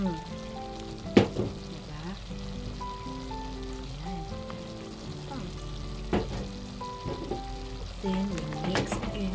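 Chicharon sizzles in a pan of pakbet vegetables while a utensil stirs and scrapes through the mix, giving a steady frying hiss broken by a few sharper clinks, with a faint voice in the background.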